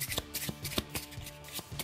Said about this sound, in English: Now I'm just gonna be shuffling it for you guys